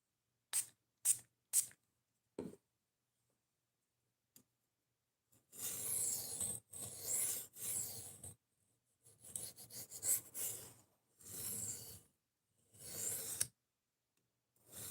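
A knife sharpened by hand on a stone: a few quick light taps at first, then after a pause several close, rhythmic rasping strokes of varying length, fairly quiet with no voices.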